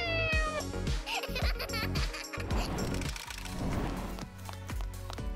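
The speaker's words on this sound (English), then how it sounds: "The cat likes it too." A cat meows repeatedly in clear, close, tonal calls, several drawn-out meows in a row with brief pauses, alone without talk.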